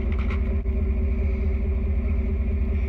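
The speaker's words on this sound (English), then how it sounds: "So that's the new exhaust. Sounds pretty well." A 2018 Silverado fitted with a Dynamax Ultra Flow exhaust idles close by, giving a steady, deep, throbbing rumble with an even pulse and no talk over it.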